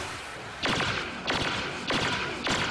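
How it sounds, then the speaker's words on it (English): An enemy ship in Star Wars Battlefront fires at the player: four loud, sharp blasts land at a steady rhythm, each a broad crack with a short tail, over a constant background hum. "Whenever I'm a hero, the ship's always shooting at me."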